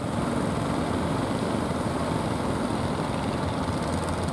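A boat engine runs continuously at a steady, rough drone near the harbour at Puger, with no break or change in pitch.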